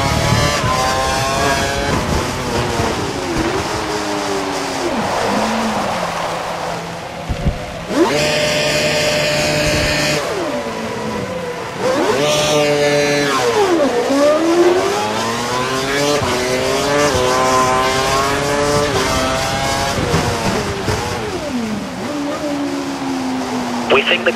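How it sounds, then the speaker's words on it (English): High-revving Formula 1 engine from the F1 2012 racing game at the India circuit, loud and sustained with rising and falling gear-change sweeps and a second car's whine layered in. "I think the car behind is running on full revs."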